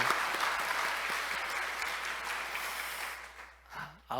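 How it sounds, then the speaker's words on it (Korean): Church congregation applauding honored elders during a Korean Sunday service, soft steady clapping that thins out toward the end as a voice speaks. "우리 이분들에게 우리 박수 한번 할까요?"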